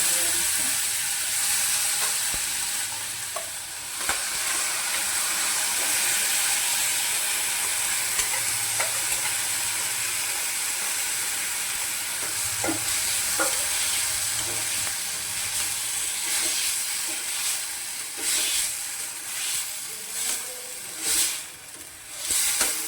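Mustard seeds, cumin and turmeric temper in hot oil for a dry fenugreek seed curry, giving a steady loud sizzle and hiss with occasional stirring clinks and pops, no talking.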